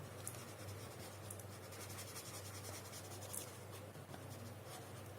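Pencil shading on paper worked in a circular motion, a soft continuous scratchy rubbing that stays steady and close throughout with no voices.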